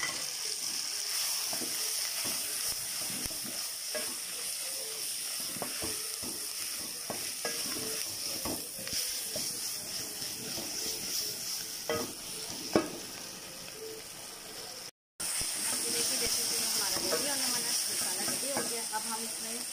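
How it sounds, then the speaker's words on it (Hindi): Spices fry and get stirred with onions and tomatoes for keema, a continuous sizzle punctuated by frequent utensil scrapes and taps, with a short break near the end before the sizzle resumes. "उसके बाद हमने सारे मसाले के साथ डाल देना और इसको भूनना है।"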